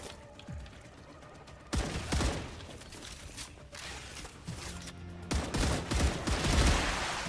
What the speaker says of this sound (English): Just run through and hip fire.